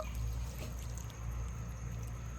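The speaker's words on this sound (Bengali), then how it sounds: "এই দেখুন এই পরিমাণে জল দিয়ে দেব" Water poured into a pan while making amla preserve, a continuous soft pouring and trickling under a low background hum, faint and steady for a couple of seconds.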